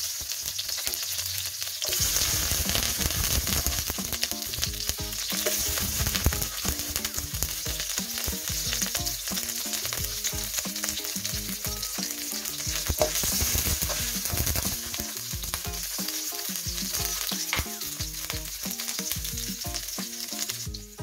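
Garlic and then onion fry in hot cooking oil for a sautéed vegetable and pork dish, a loud, dense sizzle that stays continuous throughout, with faint stirring clatter.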